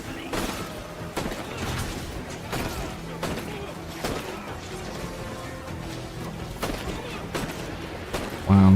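Gunfire in a video game, sharp shots spaced out one at a time at irregular intervals under ongoing talk, moderately loud, with a thump at the very end.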